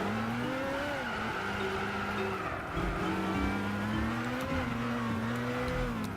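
Race car engine in Gran Turismo 6 drones steadily throughout, its pitch rising and dipping with gear changes and throttle, loud and continuous with no talk over it.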